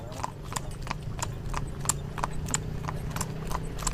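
A horse-drawn carriage ride through the streets of Edfu, Egypt, with steady clip-clop hoofbeats from a single horse on pavement, evenly paced about twice a second, over a low rumble of wheels and street noise.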